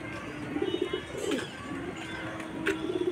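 Pigeons kept in a backyard loft coo in low, throaty repeated pulses across a few seconds, fairly close, with a faint background hum and no speech.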